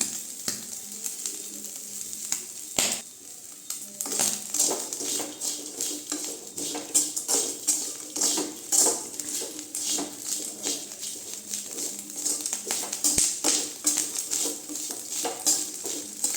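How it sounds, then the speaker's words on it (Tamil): Dried anchovy fry (nethili karuvadu) stirred in a pan with a little salt, sizzling steadily while a spatula scrapes and clinks against the metal in an irregular rhythm, close up with no talk. "நல்லா இப்படி கிண்டிகிட்டே இருக்கலாங்க"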